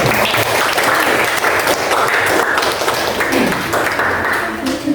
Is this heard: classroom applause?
yes